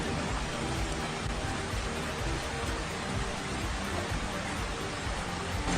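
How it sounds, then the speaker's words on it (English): Heavy rain pouring in a rainforest jungle, a dense, unbroken hiss of drops at steady loudness throughout, with no voices. "Being in the middle of a rain while you're in the rainforest jungle is something you must experience."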